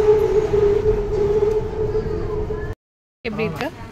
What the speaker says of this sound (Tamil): ஸோ விக்டோரி மானுமெண்ட்லேருந்து டிக்கெட் எடுத்துகிட்டு மோச்சித்க்கு வந்து நாங்கள் வந்து மெட்ரோவில் வந்து போய்கிட்டிருக்கோம்